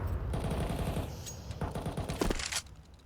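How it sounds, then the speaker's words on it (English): Counter-Strike match with AK and Galil rifles firing in rapid automatic bursts, dense overlapping gunfire at moderate loudness that thins out toward the end. "a full frontal assault of AKs and Galils"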